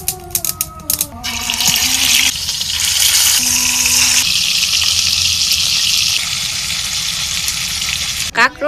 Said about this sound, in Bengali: প্রথমে কড়াইতে দিয়ে দিলাম তেল, পেঁয়াজ কুচি